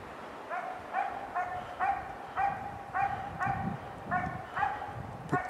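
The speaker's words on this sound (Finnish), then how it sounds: "Tuolla jossakin Hertta haukkuu." A dog barks repeatedly in an autumn forest, steady evenly spaced barks about twice a second at a moderate distance, ringing clearly over faint wind and rustle with no talking.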